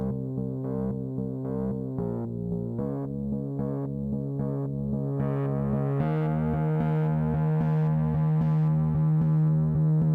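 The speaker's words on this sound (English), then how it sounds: "Now you see a tiny movement of the cutoff frequency." A buzzy synth tone with a slowly moving filter cutoff giving a faint sweep in brightness, playing steady repeated notes that become more rhythmic and fuller partway through.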